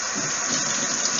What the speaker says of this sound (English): gotta wash those hands